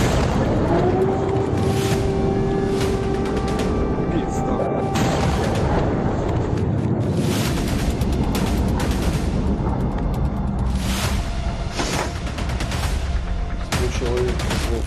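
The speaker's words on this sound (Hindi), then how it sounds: "बम बारूद और गोली से दहला कीव।" Distant explosions and gunfire rumble in war-hit Kyiv, with repeated booms and crackling shots under a continuous wash of battle noise and a voice speaking over it.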